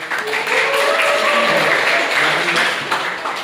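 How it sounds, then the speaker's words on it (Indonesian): Applause greets a student from SMA Negeri 1 Sinjai in South Sulawesi during a civics class session, a steady wash of clapping sustained for several seconds at moderate loudness. "Ya, aplaus buat Sinjai."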